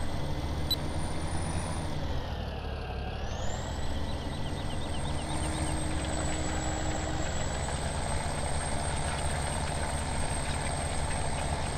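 A tractor engine from Farming Simulator 17 runs near maximum RPM as a constant loud mechanical drone, with a whining tone that dips briefly and then rises back, and no voices.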